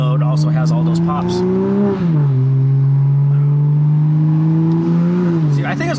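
Toyota GR Supra, 2020 model, engine held at a steady drone with a small pitch shift midway, loud and continuous, with crackling pops at the start and end.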